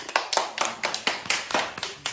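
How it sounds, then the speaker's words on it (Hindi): A few hands clap in a slow, even rhythm, about nine distinct sharp claps spaced roughly a quarter second apart, close and clear in a quiet room with no talking. "तालियां।"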